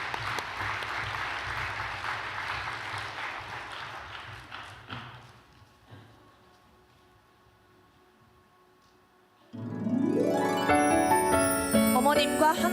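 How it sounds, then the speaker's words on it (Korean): Warm applause welcomes performers to the stage at a church gathering, loud and dense at first, then thinning into a few scattered claps and fading nearly silent before music starts. "따뜻한 박수로 맞이해 주시기 바랍니다."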